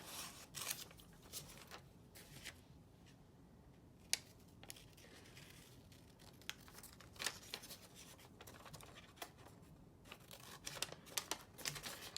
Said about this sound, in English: we're almost finished cutting the 2-dimensional shape